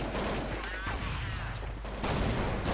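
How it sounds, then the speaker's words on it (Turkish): Loud gunfire and a heavy blast from a Counter-Strike 1.6 match, with a thrown grenade going off amid dense bursts of shots that carry steadily through the whole stretch. "Öyle güzel bomba attım ki"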